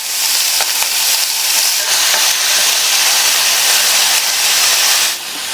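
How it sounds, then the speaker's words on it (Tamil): Large onion pieces sauté in hot oil with a loud, continuous hissing sizzle and faint stirring scrapes, with no talking. "இந்த வெங்காயத்தை லைட்டாக 1 நிமிஷம் போல் வதக்கி விட்டுக்குங்க."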